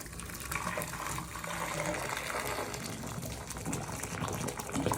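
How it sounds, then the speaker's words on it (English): Hot water pouring and gushing steadily into a slow-draining shower drain, a continuous splashing rush with no one speaking. "First things first, the hot water goes down."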